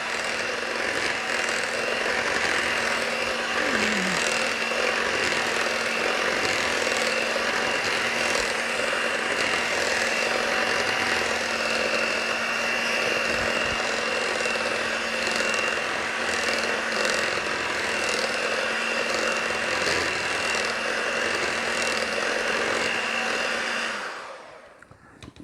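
An electric mixer runs at low speed through keto brownie batter, giving a steady whirring motor drone that lasts over twenty seconds, with faint scraping, before it switches off near the end.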